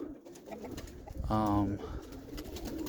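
Roller pigeons give a single soft coo at close range, heard briefly against faint background noise with a quiet voice nearby.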